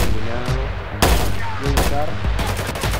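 Rapid bursts of video game gunfire, loud and dense, with sharp shots cutting through an excited player's shouting across the whole stretch.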